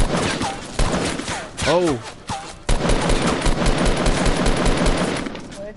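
Rapid automatic gunfire in the video game Fortnite crackles through most of the stretch in dense, loud bursts, with a brief lull midway, while excited players shout over it.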